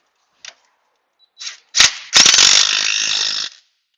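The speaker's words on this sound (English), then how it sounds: "We'll check those with a big ratchet." A big ratchet rapidly clicks while checking the strut bolts on a 2005 Toyota Camry, opening with a few short sharp taps before a sustained, loud, close burst of clicking that stops abruptly.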